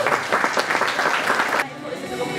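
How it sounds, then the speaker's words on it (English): A crowd at a juggling convention breaks into loud, dense applause that cuts off abruptly partway through, leaving quieter room sound and talking. "a round of applause for everyone who managed to stand back up again."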